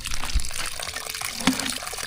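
Water gushes steadily into buckets being filled for watering plants on a farm in summer, a continuous close rushing splash.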